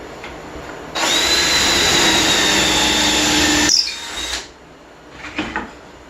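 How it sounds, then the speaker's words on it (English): A power drill bores a hole in wooden boards for a welcome mat, one loud, steady whine lasting about three seconds, then a brief winding-down and a few short bumps. "I've gotten all my holes drilled"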